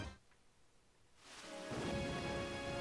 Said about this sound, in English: And then this thunderstorm appeared.